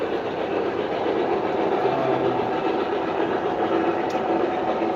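An MTH Premier Pennsylvania Railroad K4 steam model train runs steadily along the track, with a continuous close rolling rumble and faint clickety-clack throughout, no voices.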